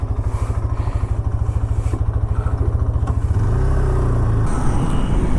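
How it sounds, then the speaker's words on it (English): Close, steady exhaust note from a Hero Xtreme 160R 4V 160cc motorcycle on the move, a rapid even pulsing that smooths into a deeper, sustained drone as the rider shifts and the engine settles. "So let's take for a short ride and find out how the Extreme 160R performs."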